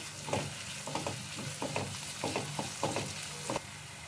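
Tomato frying with ginger and garlic in a pan for mushroom gravy, a soft steady sizzle punctuated by repeated scraping stirs at a fairly even rhythm, close and moderately quiet.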